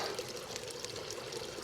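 Water trickles and pours steadily inside a derelict hospital, a faint, continuous wash of splashing with no voices.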